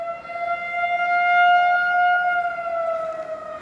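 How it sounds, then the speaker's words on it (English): A 2001-model civil defense tornado siren sounds during a Springfield, Missouri test, a loud, steady, close wailing tone with harmonics that holds nearly constant, rising slightly then easing, with faint background noise beneath. "Yep, the Springfield tornado siren test. They're those 2001 sirens."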